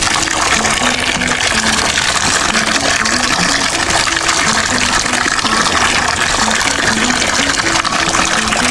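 A strong stream of pumped water gushes out steadily for watering plants in a backyard garden, a loud, continuous rushing splash with no pauses or talk.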